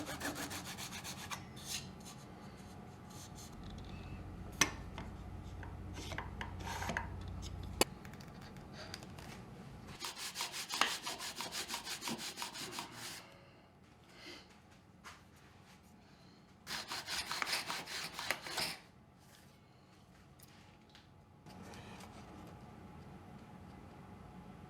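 A proud dovetail tail on a small wooden box being trimmed by hand, with bursts of close rasping and rubbing strokes separated by pauses and a few sharp knocks.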